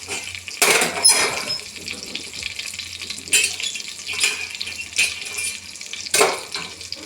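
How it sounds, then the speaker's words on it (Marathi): Hot water poured into a pan of frying stuffed brinjals, several loud splashing bursts with a sizzling hiss between them, close and without talk. "तर आपण गरम पाणी टाकू."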